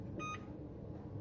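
A single short electronic beep sounds from a home oven's control panel being set to bake, faint against a quiet kitchen background.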